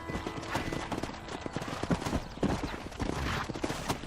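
Rapid horse hoofbeats from Red Dead Redemption clip-clop steadily over a busy background of music and ambient noise, the horse close and moving at a quick pace.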